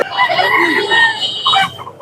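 Roosters and hens at the Hasnabad poultry market, loud nearby crowing and clucking in overlapping bursts, with market bustle and possible voices underneath.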